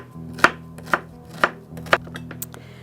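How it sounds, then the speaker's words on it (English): A knife roughly chopping a medium-sized onion on a board, four crisp, evenly spaced cuts close by over a steady low kitchen hum, with a few lighter taps at the end. "We're roughly chopping one onion, medium-sized onion to start with."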